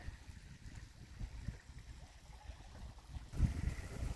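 A garden pond empties through its open plug in a steady, close gurgling rush of water, with a louder surge of flow near the end and no talking.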